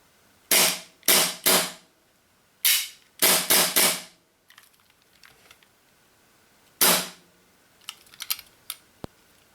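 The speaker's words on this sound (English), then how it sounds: "Let's just give this a quick fire." Armorer Works NE1001 gas airsoft pistol, a compact Springfield V10 Ultra Compact replica, fires a run of sharp, snappy shots in quick pairs and triplets, then one more, followed by faint mechanical clicks and handling noise.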